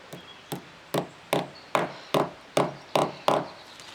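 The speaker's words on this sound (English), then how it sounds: "tap that in gently using a hammer" Nine evenly spaced, sharp hammer taps driving a cable clip into a wall, close and fairly quiet, each a crisp knock on a hard surface with a brief ring.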